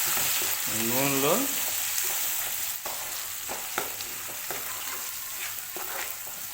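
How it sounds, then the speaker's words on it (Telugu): Sizzling tempering oil with raw mango chutney mixed through it, a near, steady frying hiss punctuated by spoon clinks, with a short tonal whine near the start. "మొత్తం ఇది నూనెలో కలుపుకోవాలంతా తాలింపుని"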